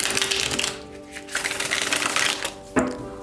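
A deck of tarot cards being shuffled by hand close up, with loud papery riffling bursts that come in a few quick passes and short pauses between them. No one speaks.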